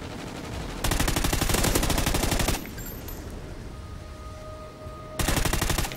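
Automatic gunfire from shooting at an enemy in Call of Duty: Ghosts multiplayer, two loud rapid bursts of rattling shots, the first lasting nearly two seconds and the second starting near the end, separated by a quieter gap.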